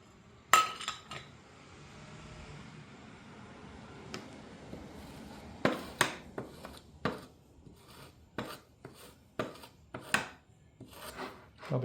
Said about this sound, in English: And I'm going to clean my scraper here.